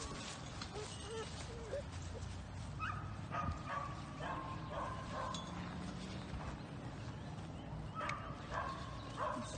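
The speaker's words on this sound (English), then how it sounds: "I'm waiting on Sue to bring the other dog out." A dog yips and barks in scattered short bursts at moderate distance outdoors, with steady background noise and other people's voices faint in the mix.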